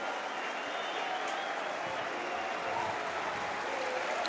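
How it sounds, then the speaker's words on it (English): At a Barcelona football match, the stadium crowd applauds a player who is warming up. Broad, steady clapping and crowd noise run the whole way through, with faint voices mixed in. "I think the applause is for Arturo Vidal, one of the players warming up"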